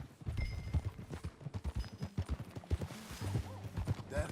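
Horse hooves in the Red Dead Redemption 2 video game clip-clop at a steady riding pace, close and moderately loud, a rhythmic run of thuds with faint background tones and no speech.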